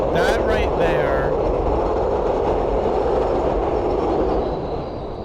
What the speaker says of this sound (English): That was the Express F train.